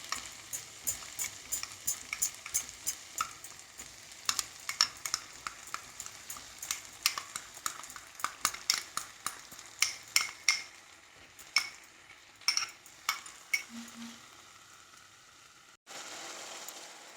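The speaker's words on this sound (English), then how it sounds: "Let this fry for some time till the raw smell of the coriander powder is gone." Masala of curd, coriander powder and onion-tomato paste fries in a pan under a soft sizzle, broken by repeated sharp spatula scrapes and taps against the metal, ending with a brief louder hiss.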